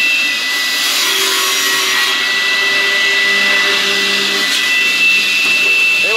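A log saw, likely electric, runs with a steady loud whine and high-pitched hum while it cuts through wood pieces, the tone shifting slightly as the blade bites, continuous without any speech.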